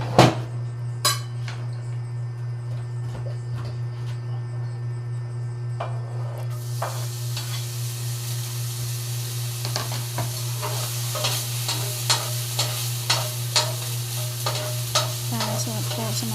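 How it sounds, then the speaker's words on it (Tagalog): Leftover cold rice stir-fried in a pan for homemade sinangag, a steady sizzle under a low hum with repeated clinks and scrapes of the spatula, close and continuous, growing busier partway through. "Yung simpleng pagsangag lang po ng kaning lamig po"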